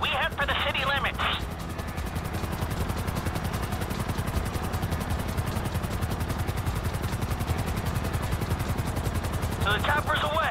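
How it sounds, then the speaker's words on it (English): A helicopter in Grand Theft Auto 5, heard as a loud steady rotor chop that runs through the whole stretch amid heavy gunfire and clatter, with bursts of talk near the start and end. "I'm bringing the chopper back around."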